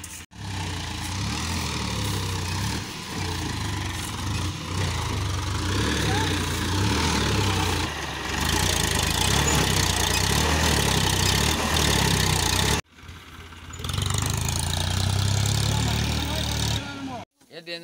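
A tractor carrying soil at a building site runs with a steady, rumbling mid-low engine drone that cuts out briefly near the thirteen-second mark and again at the end, with voices talking over it.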